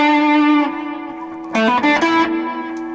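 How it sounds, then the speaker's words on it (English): Electric guitar notes played through a NUX pedal set to tape echo slapback, loud sustained tones with a short doubled echo and a brighter burst of chord notes midway. "I use it quite simply in the tape echo mode with a slap back type thing"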